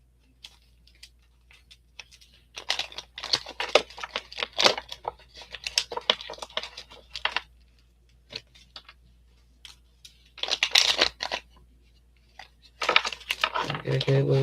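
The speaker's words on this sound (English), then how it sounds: "Gotta get a little shuffle in." Oracle cards are shuffled by hand in short papery bursts of flicking and riffling, separated by quiet pauses, close and fairly soft.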